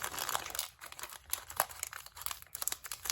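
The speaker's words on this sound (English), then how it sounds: "let's cut everything open" Beyblade X toy packaging is cut and pulled open, with close, irregular plastic crinkling, crackling and small snaps running throughout and no talk.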